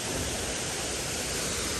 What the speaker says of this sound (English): So here I am at the bottom of the waterfall.